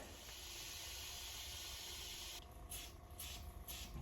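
A can of brake cleaner sprays in a steady continuous hiss, joined after a moment by several short bursts of spraying, close by.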